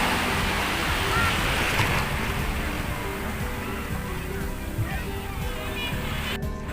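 Ocean waves at San Fabian beach in Pangasinan wash in a continuous broad surf hiss, with steady sloshing and no distinct breaks, heard from close to the water.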